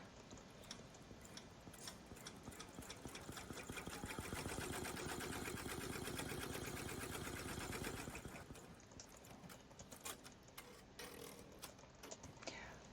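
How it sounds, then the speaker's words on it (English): An embroidery machine stitching out a placement box on a hoop, a fast, even mechanical ticking and whirring, close and steady, swelling briefly louder midway before settling back. "We'll let the machine stitch out the placement box so we know exactly where to place our fabric."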